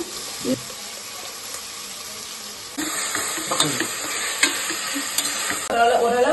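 Onions and ground coriander paste sautéing in a pan for prawn biryani, a continuous loud sizzle with spatula scrapes and stirring clatter growing busier partway through.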